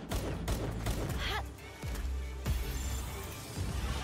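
Rapid pistol gunfire from the video game Palworld, a burst of sharp shots followed by scattered single cracks over a busy in-game mix of thuds and background noise.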